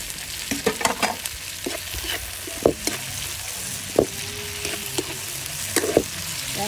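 Onion and tomato sauté in a pan for a home-cooked lunch, giving a steady close sizzle broken by several sharp spatula scrapes and clinks against the pan.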